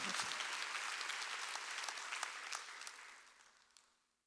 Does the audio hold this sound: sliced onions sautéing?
no